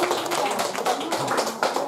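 An audience at a formal gathering with a regional governor's speech breaks into dense, continuous hand clapping. The applause is fairly loud and even, with a few sharper claps standing out near the end.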